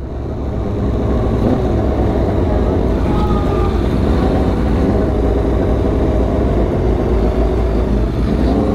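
A Riva 600 motorcycle built from four Titan 150 engines rides through neighbourhood streets, its loud, steady, low engine roar holding close and continuous throughout without any speech.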